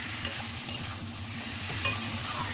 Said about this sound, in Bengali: মশলা দিয়ে মশলাটাকে ভালো করে কষিয়ে নেব